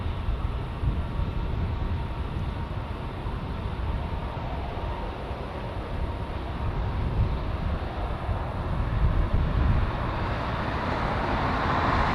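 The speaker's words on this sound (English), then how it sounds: "Oh, beautiful takeoff there by the 747." A Boeing 747 takes off at LAX with a broad, steady engine roar that holds at a constant level throughout and swells slightly toward the end.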